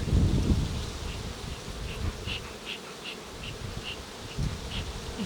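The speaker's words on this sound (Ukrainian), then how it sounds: "Ось така кількість бджіл." Honey bees buzz inside an open Ukrainian-Alpine beehive during a queen replacement. The dense, close hum is laced with individual buzzing passes, and the sound is faint overall.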